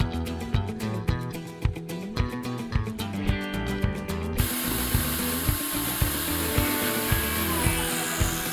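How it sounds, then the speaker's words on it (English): A power drill bores a series of small holes in a metal panel in a garage. Rapid grinding bursts give way to a steady close whine with rhythmic pulses, and no one speaks. "drill that little pepper pot effect holes"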